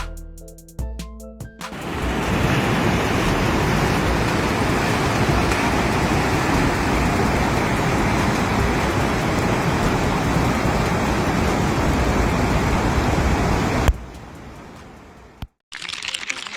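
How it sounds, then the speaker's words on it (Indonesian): Heavy rain pours over a flooded city road in Banten, Indonesia, making a dense, loud, continuous roar of rushing water and downpour that starts abruptly and cuts off near the end. "Hujan deras sebabkan banjir di Banten."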